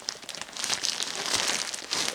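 Compostable parcel packaging being torn and crumpled by hand, a dense, close, continuous crinkling and ripping rustle with no talk.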